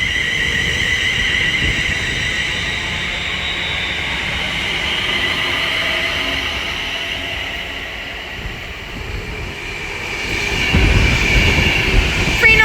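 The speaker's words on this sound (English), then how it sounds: "we're about to have an Avanti West Coast class 390 Pendolino pass by from Glasgow Central to London Euston" An Avanti West Coast class 390 Pendolino on the West Coast Main Line at Watford Junction rushes past with a steady, loud whine and rumble, building to a heavier roar near the end.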